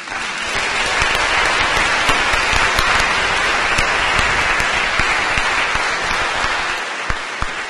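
Applause from a gala audience at a literary award ceremony, a loud continuous roar of many hands clapping with sharp individual claps standing out, easing slightly at the end.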